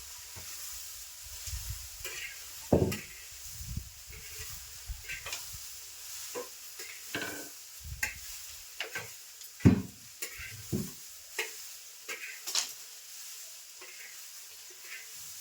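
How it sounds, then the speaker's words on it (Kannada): Chauli beans frying in a pan over a low wood fire, with a steady soft sizzle broken by scattered stirring scrapes and a few sharper clanks, heard close with no talking. "ಚೌಳಿಗೆ ಹೆಂಗೆ ಹುರಿಯೋದಂದ್ರೆ ಚಂದ ಕಣ್ಣು ಬಿಡ್ಬೇಕ್ರಿ"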